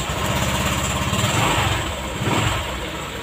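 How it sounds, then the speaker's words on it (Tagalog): A Honda Click scooter engine idles close by with a steady, rapid putter, briefly rising slightly in revs before settling again. "So ito yung tunog ng ating Honda Click."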